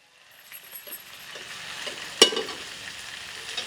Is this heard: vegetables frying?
yes